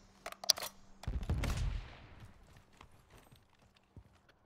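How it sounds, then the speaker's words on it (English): Gunfire in an online battle-royale shooter video game, a burst of shots and a booming blast near the start, then scattered fainter shots in the distance. "There's definitely shooting happening on top of this building and from this crane."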